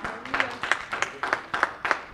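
A church congregation clapping at an Easter Sunday service, several quick bursts of claps in an uneven rhythm, fairly close and lively.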